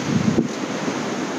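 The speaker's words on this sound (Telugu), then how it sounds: "తడపడానికి వస్తున్నాయి అలలు" Ocean waves on Arambol beach in Goa, a steady broadband wash of surf mixed with gusting wind buffeting the microphone, continuous and fairly loud with no talk.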